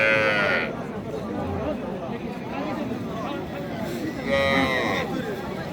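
Cattle at a cattle market moo in two drawn-out calls, one at the start and one near the end, amid steady background chatter and people talking close by.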